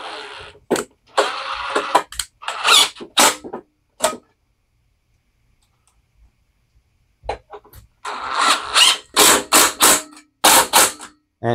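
A socket drives two new 5/16 bolts into an engine in loud, close bursts of clattering, with a long quiet gap between the first and second runs.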